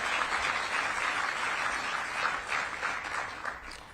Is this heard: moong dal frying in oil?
no